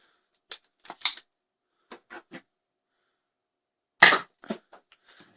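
An X-Shot Menace toy blaster fires a long dart, giving a series of short, sharp plastic clicks and snaps, with one louder crack near the middle; the clicks are spread out and separated by silence.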